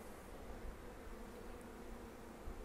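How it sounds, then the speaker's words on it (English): Honeybees hum around a backyard hive with a faint, continuous low drone, steady throughout with no voices. "There's a drone. Come here, boy. That's a boy bee."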